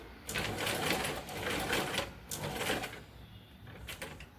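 A sewing machine stitching lace onto a blouse, running in steady whirring bursts with brief pauses between them, close and fairly loud, with no talking.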